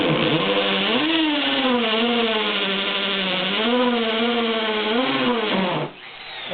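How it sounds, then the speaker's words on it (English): Hammer drill boring holes into concrete, a loud sustained whining grind with slight pitch wavers that runs about six seconds and then cuts off abruptly. "that's how long it takes for the hammer drill"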